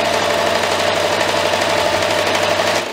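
Electric sewing machine running steadily at high speed, stitching quilted lines across felt for a pineapple banner; a continuous close, even mechanical whir with rapid needle rhythm, alone without talk, easing slightly at the end.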